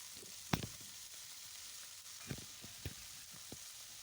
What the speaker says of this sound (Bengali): ধনিয়া পাতাটা দিয়ে আবারও ভেজে নেব কিছুক্ষণ